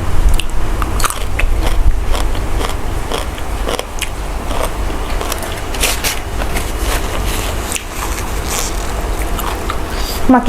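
Close, loud crunchy bites and steady chewing during a dinner meal, repeated wet mouth sounds and crackles throughout, with occasional faint voice in the background.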